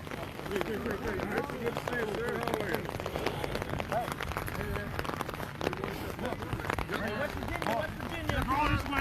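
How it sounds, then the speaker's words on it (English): Rain falls steadily on a cold day at an outdoor flag football game, a constant hiss under continuous nearby talk. "Very cold, rainy day."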